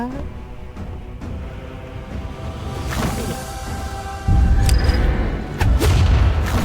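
Low booming explosions in Brawlhalla erupt twice in the second half, heavy and sudden against a backdrop of ongoing game sounds.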